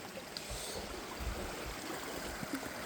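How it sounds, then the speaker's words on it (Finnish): A small stream gurgles steadily in a snowy forest, a continuous close rush of water with faint bubbling flecks and no voices. "Täällä hienosti purosollisee"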